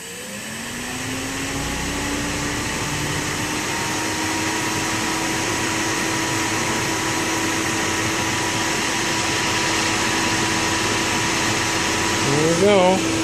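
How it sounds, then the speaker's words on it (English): AC motor on a motor controller spinning up, a rising whine that settles into a steady loud electric hum with fan-like hiss, sustained throughout. "First, let's rev up the motor."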